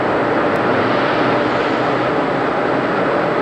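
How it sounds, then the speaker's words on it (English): Falcon 9 rocket engines starting up at LC-39A, Kennedy Space Center, as a loud, steady broadband roar that fills the whole stretch without a break. "And Falcon 9 is now in startup."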